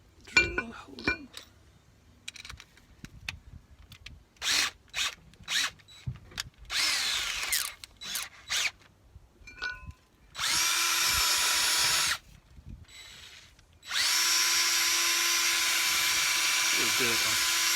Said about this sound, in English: Just going to give it a quick clean with my drill